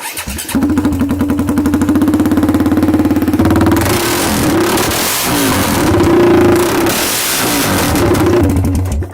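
A KTM four-stroke motorcycle runs with its stock racing muffler removed and a two-stroke expansion pipe fitted. It starts with a loud, rapid, popping idle and then revs up and down in strong surges, close and alone.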